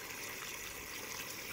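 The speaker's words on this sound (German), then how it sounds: "Geben wir da jetzt einfach Wasser dazu." Water poured into a pan of gravy that already holds red wine, making a steady, quiet, bright rushing hiss with no break for the whole moment.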